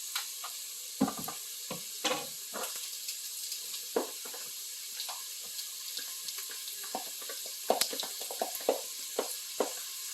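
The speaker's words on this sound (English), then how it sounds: "So we're going to go ahead and add the curry in." Curry sizzling in an Instant Pot, a quiet bubbling and spattering with scattered clicks and scrapes from stirring, heard close and faint with no talking.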